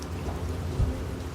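A storm sound effect of wind and rain makes a continuous, dense rushing roar, with a low rumble of thunder swelling briefly near the middle.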